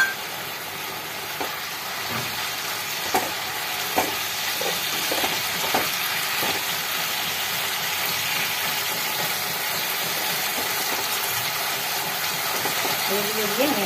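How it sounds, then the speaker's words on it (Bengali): Fried potatoes tipped into a pan of cooking ridge gourd, giving a steady sizzle with a few scattered knocks and stirring taps early on, moderately loud and continuous. "এখন ভেজে রাখা আলুগুলো দিয়ে দিচ্ছি।"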